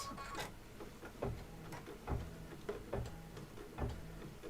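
Home embroidery machine stitching slowly on a quilt block as its stitch key is held, giving a steady, soft mechanical ticking with regular needle thumps, close by and with no talk.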